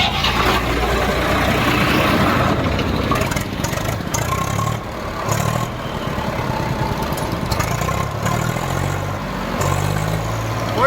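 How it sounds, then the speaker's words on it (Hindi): Second-hand tractor at a used-tractor market, engine started and idling with a loud, steady low chug close by, with some background clatter. "और भाई स्टार्ट करके आवाज़ भी चेक कराऊंगा ट्रैक्टर की।"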